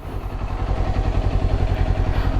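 A Kawasaki motorcycle on its stock exhaust runs at a steady idle close by, a moderately loud, even low rumble with a fine rhythmic pulse and no talking over it.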